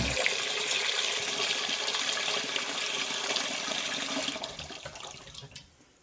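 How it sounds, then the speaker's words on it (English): Tap water runs into a pot for pasta, a steady close rushing fill that tapers off as the flow is shut, with no voices. "This is how you fill up the water."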